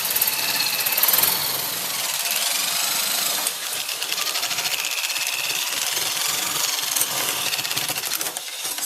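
A metal shear slicing a long cut across sheet metal for a welded star, heard as a loud, continuous grinding mechanical drone that holds steady throughout with no talk.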